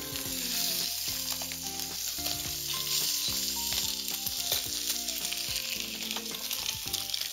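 Chicken thigh pieces, seasoned with a little pepper, sizzle steadily in a small amount of oil in a pan. The frying hiss is loud and continuous, with music playing alongside.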